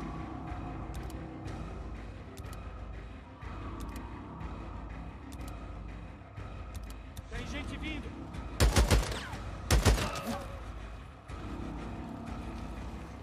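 Gunfire in the open-world video game Days Gone: a couple of loud, sharp shots around the middle, set against steady game ambience with scattered mechanical clicks, while a player talks over it.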